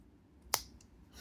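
A single crisp snip from the scissors of a Leatherman ARC multitool, close and brief, with no talk around it.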